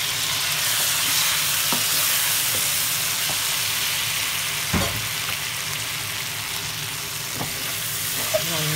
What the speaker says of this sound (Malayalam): ഇനി ഇതിനകത്തേക്ക് നമുക്ക് വേവിച്ച് വെച്ച കപ്പ ഇട്ട് കൊടുക്കാം.